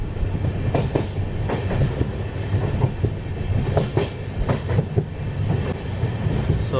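Tirupati–Shirdi weekly express train rolling across a bridge, a loud steady rumble with rhythmic clickety-clack of wheels over rail joints, heard from on board with no talking.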